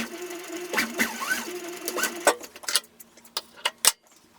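A sewing machine runs short bursts of stitching along a French seam, a quick mechanical whir that gives way to sharp separate ticks and clicks, close and fairly quiet.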